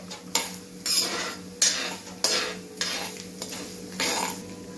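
Stirring and frying a tempering for poha chivda in a pan, with repeated scraping strokes of a utensil against the metal over a steady sizzle, close and clear.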